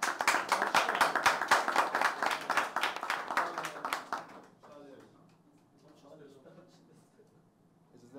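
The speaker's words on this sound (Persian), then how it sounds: "جناب آقای نیما رو تشویق کنین از بازی میرن." Audience applause for Nima, a player leaving a tournament game, as dense rapid clapping for about four seconds before it cuts off and soft talk follows.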